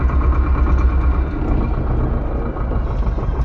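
A T25 tractor engine chugs steadily at idle during potato harrowing, a loud continuous low rumble with no voices.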